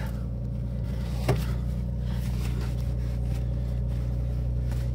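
A car engine idles steadily just after being started, a constant low hum with one brief knock partway through and no voices.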